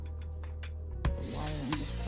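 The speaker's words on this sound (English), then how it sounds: "Let me get my oil spray. I'm gonna spray this pan" Cooking oil spray hisses from a can onto a roasting pan for oven roast chicken, a steady close spray starting about midway and running to the end.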